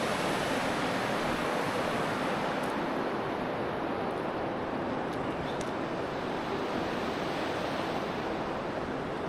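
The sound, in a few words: Spiti River flowing in winter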